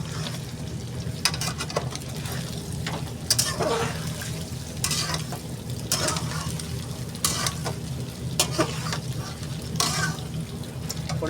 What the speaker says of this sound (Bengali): পনিরটা সেই লাল করে ভাজতে হবে।